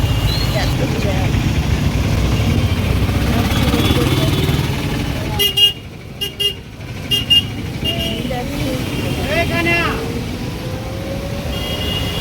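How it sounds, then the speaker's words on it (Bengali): Traffic jam on the road to the Jagannath temple in Puri: a steady roar of idling engines and passing vehicles, with clusters of car horns honking around the middle and again near the end. A voice speaks under the noise. "এখন আমরা মন্দিরে যাচ্ছি, গাড়িগুলো দেয় এত জ্যাম।"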